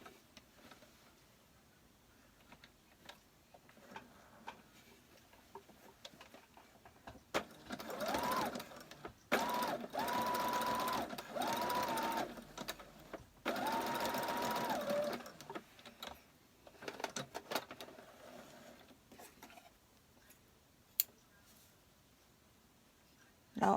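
A sewing machine stitches up a shirt torn in two places, running in long whirring bursts mid-clip, with quiet handling, faint taps and clicks before and after.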